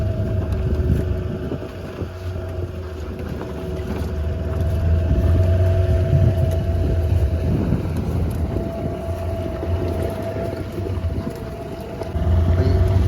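A fishing boat's engine drones steadily out on the deep sea, a low continuous hum with wind buffeting the microphone throughout.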